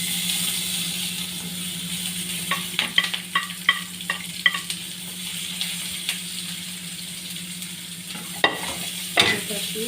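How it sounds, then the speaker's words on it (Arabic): Vegetables being sautéed in a pan for a pasta with red sauce and basil, with a steady sizzle, a low hum underneath, and clusters of spatula taps and scrapes, close by with no speech. "عشان انا ما ينفعش احطه مع الصلصه اخده تشويحه كده"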